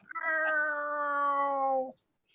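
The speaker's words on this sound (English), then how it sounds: "is that cat verbally saying the word meow?" A single long, drawn-out cat meow rings out close and clear, steady in pitch before stopping abruptly, followed by quiet.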